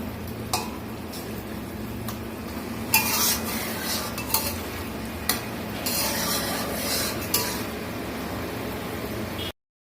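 A spatula stirs a spice masala with tomato in a pan for rohu fish cooked with vinegar, with several distinct metal scrapes over a low, steady sizzle.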